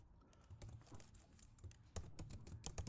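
Code being typed on a computer keyboard gives quiet, close clicks in uneven bursts, with a few louder keystrokes near the end and no speech.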